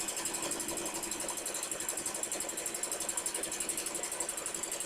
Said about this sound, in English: you want to sew this line right here together real fast. And back stitch, and continue.